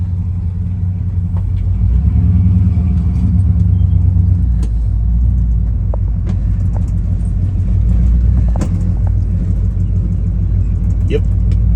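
A 1972 Chevrolet K10 Suburban truck rumbling steadily on the road, its engine drone continuous and loud from inside the cab, with someone talking over it.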